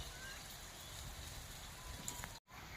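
Hillside streams and channels running hard on a mountain just after rain, a faint, steady rushing wash of water that continues evenly and drops out briefly near the end.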